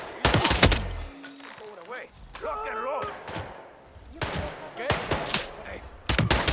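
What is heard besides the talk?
gunshots in Hitman 3 video game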